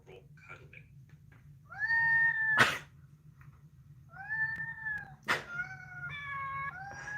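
Cats in a video being played back meow several times in drawn-out, wavering calls, with two sharp clicks or knocks between them, set against a low steady hum.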